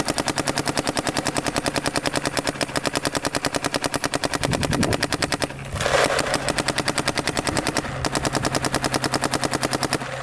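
Paintball marker rapidly firing paintballs in a steady fast stream of sharp pops, loud and close, with a brief break partway through before the shots resume.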